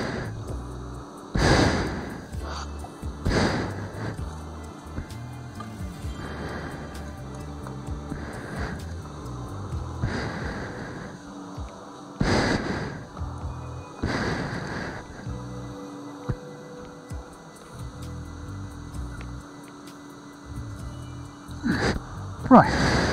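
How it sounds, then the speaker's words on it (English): Heavy panting breaths from a person tired out after painting, loud close exhalations coming in uneven bursts with quieter breathing and faint background noise between them. "Sorry if I'm panting a bit."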